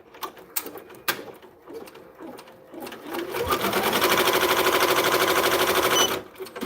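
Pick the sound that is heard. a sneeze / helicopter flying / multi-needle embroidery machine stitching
multi-needle embroidery machine stitching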